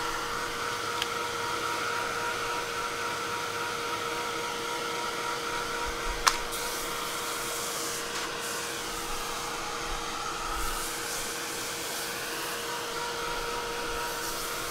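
A hair dryer blows steadily over freshly painted paper, a constant close whirring airflow that runs unbroken, with a couple of faint clicks and no voices.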